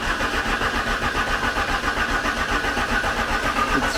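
A Genie scissor lift's small engine starts after being choked in the cold and settles into a steady, loud mid-pitched running drone that fills the whole stretch, with no talking over it.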